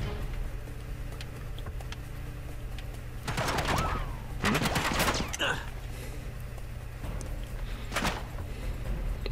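Gunfire in Uncharted 3: bursts of shots at moderate distance, clustered in a heavy volley near the middle and another brief burst toward the end, over a steady game background hum.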